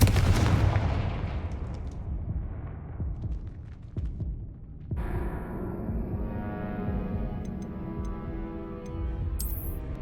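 A Confringo fire spell in the Hogwarts Legacy video game lets off a single loud blast at the start that rumbles and fades over several seconds, followed by faint ticking and low game ambience.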